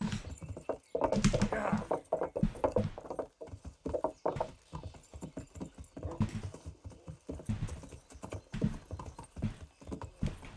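Horse hooves from the medieval video game Kingdom Come: Deliverance clatter in a rapid, uneven gallop, loud and close, with dense overlapping hoofbeats and brief pauses mixed with other game sounds.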